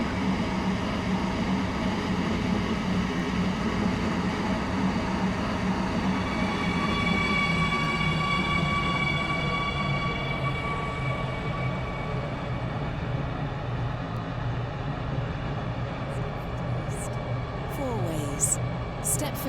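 An SCR Metro R031 five-coach train runs steadily in the Roblox game, giving a continuous loud rumble with a rising motor whine and faint clicks near the end.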